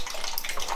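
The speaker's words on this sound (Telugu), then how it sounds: "అది టైట్ అయితే లేదు, వాటర్ వస్తున్నాయి." A loose tap in a village home lets water gush out in a continuous splashing hiss, close and steady.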